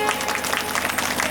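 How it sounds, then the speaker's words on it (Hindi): An audience at a Hindi spiritual discourse claps loudly and continuously in a brief, dense burst of applause. "पिता के लिए जोरदार ताली बजाइए"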